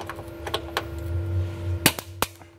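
Several sharp cracks and pops as a threadlocked bolt on a BMW E39 fender cracks loose under force, over a low mechanical hum, with two louder snaps near the end.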